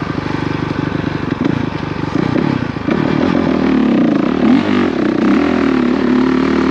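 A Honda CRF450RX dirt bike takes off in second gear on a hill climb, its engine close and loud with a rough, pulsing idle that swells into a strong, sustained rev.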